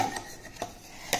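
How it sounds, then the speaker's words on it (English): Masala mixture stirred in a pot, heard as a few sharp metallic clinks and scrapes of a utensil against the vessel, spaced roughly half a second apart, close and fairly quiet with no talking. "Mix it thoroughly. Add all the masala to it."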